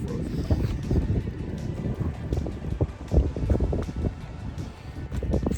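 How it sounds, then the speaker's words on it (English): Steady wind buffeting the microphone with low rumbling gusts at a campsite in Collins Inlet, continuous throughout, no voices. "Yeah, it's kind of windy"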